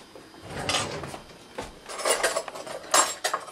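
A kitchen drawer slides open and cutlery rattles as a spoon is taken out during scone baking, giving a few close wooden knocks and metallic clinks spread over several seconds.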